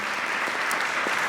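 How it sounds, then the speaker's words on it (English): Brief burst of audience applause for a panel at an Earth Day celebration, a dense steady wash of many hands clapping, close and even. "A round of applause for our panel."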